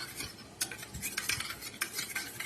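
Eggs being beaten with a spoon in a bowl for an egg and potato bhurji, giving quick irregular clinks and stirring scrapes, close and moderately quiet, with no talking.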